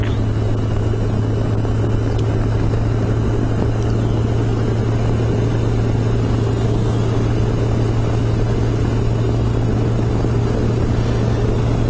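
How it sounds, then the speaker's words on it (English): A Kawasaki ZG1000 motorcycle engine runs steadily on a rainy night ride home, a loud, constant low drone with a strong steady hum and broad wind and road noise filling the whole stretch, no voices. "this engine seems to run better with the seafoam"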